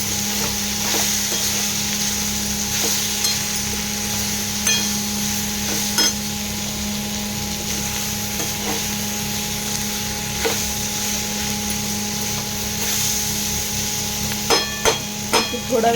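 Soya chunks stir-fried in a spiced masala for soya chilly, with a steady low sizzle and repeated sharp knocks of a spatula against the pan at irregular intervals, close and moderately loud.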